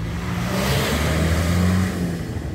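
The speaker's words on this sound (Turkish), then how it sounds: "Gaz ver, gaz ver, gaz ver." A car accelerates on a road with a steady, rising engine hum heard up close from inside, its mid-pitched drone continuous throughout.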